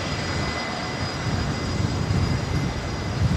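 A jet airliner departing runway 19 left at Brisbane Airport, a steady broad engine roar heard from a distance, sustained and slowly swelling.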